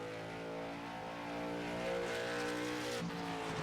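A late model race car on a qualifying lap at North Wilkesboro, its engine revving up in a rising whine with tire noise, steady and fairly close, with no talk.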